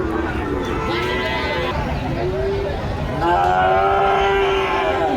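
Cattle at a village livestock market in Joypurhat, Bangladesh, low drawn-out moos rising over a steady crowd murmur, with people talking throughout and one loud bellow near the end.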